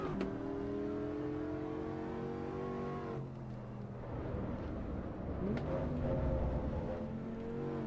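A race car engine in Assetto Corsa Evo revs hard through the gears on a track, a continuous loud drone that rises in pitch, drops at each shift and climbs again.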